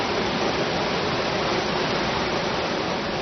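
Mountain water rushes down over rocks in a continuous, loud, even roar, like a waterfall heard close up with no other sounds.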